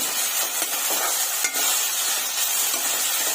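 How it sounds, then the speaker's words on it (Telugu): Tomato frying in hot oil in a pan, a dense, even sizzle that holds steady throughout, broken by a couple of faint stirring scrapes, with no voices. "టమోటా కూడా బాగా మగ్గేంత వరకు బాగా ఆయిల్లో ఫ్రై చేసుకున్నాము."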